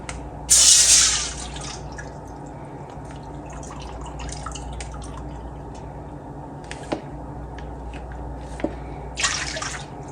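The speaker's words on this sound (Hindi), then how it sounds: "सबसे पहले हम इसमें 5 कप हमने इसमें दूध डालना है" Milk poured into a cooking pot for sabudana and vermicelli kheer, heard as a short near splash and trickling of liquid at the start, then quiet kitchen background with a few small clinks and a brief second splash near the end.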